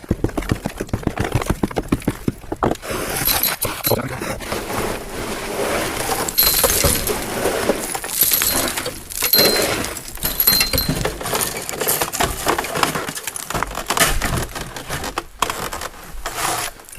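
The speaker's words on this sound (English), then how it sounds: "this ice just shatters as soon as you hit it" Ice being struck and shattering outside an off-grid cabin at minus 20, heard as loud, close cracking and breaking impacts, some rapid and some scattered, alone with no talk.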